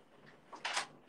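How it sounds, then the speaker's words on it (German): A toilet door opened with a spoon: a faint metallic scrape and click followed by a brief bright rattle of the door coming free, close by and short, with no talk over it. "die stille Örtchentür mit einem Löffel aufgemacht"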